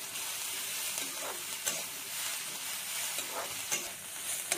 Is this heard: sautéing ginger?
yes